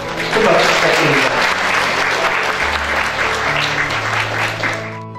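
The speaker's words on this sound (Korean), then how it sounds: "큰 박수 부탁드립니다" An audience at a year-end company gathering breaks into loud, sustained applause, dense clapping filling the room while music or a low tone plays underneath.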